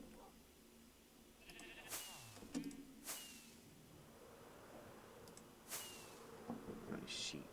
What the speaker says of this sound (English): Nice sheep, nice straggling around.